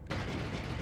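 A big explosion in the video game Noita, a dense broadband rumbling burst that kicks in after a brief quiet moment and rolls on loudly and steadily to the end, with no talking over it.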